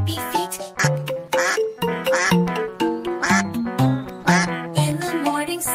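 Loud, rapid duck-like quacks in a repeating rhythm, closely recorded and strongly pitched, sounding more like a musical or synthetic imitation.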